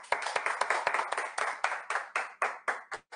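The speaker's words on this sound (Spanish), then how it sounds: "¡Aplauso!" A small audience claps briskly at a Chinese New Year show, separate sharp hand claps in an uneven rhythm that thin out and stop near the end.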